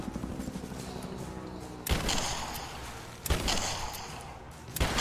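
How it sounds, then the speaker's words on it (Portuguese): Three shotgun blasts from the Rise of the Tomb Raider video game, each a sudden booming crack with a rumbling tail, spaced more than a second apart over a dim, hollow catacomb ambience. "o cara tomou 3 tiros de shotgun"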